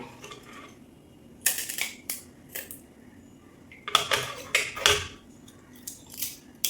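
A knife rasps over a pearl spot fish, scraping off its scales in short, sharp bursts with pauses between strokes, close and fairly loud, with no talking.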